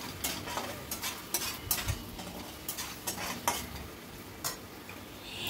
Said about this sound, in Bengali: এবার 1 টেবিল চামচ মতো আদা রসুনের পেস্টও দিয়ে দিলাম, দিয়ে সব কিছু ভালো করে মিশিয়ে নিয়ে ফ্রাই করে নিচ্ছি।